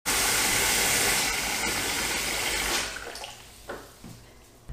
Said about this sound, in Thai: เปิดน้ำให้เต็มอ่างนะคะให้เหนือปุ่มน้ำวนนะคะ